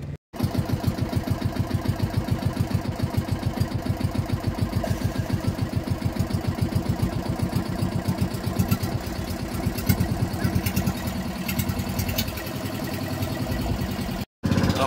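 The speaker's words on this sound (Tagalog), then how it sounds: "nagmamaniobra na po yung bangka" A steady, rapid motorboat engine putter runs continuously at close range as the boat manoeuvres at sea at high tide, a loud mechanical chugging with only a brief break near the end.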